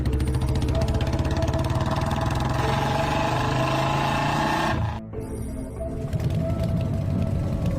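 Cartoon motorbike riding off: a close, continuous buzzing engine with a ratcheting rattle, dropping out briefly near the end before revving back up.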